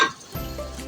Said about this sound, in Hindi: इसको 1 मिनट के लिए फ्राई करेंगे, ताकि हमारा जो अदरक लहसुन है वो अच्छे से फ्राई हो जाए